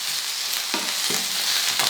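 White onions hiss and crackle as they drop into a hot pan for beef stroganoff, a steady close sizzle broken by a few sharp stirring scrapes.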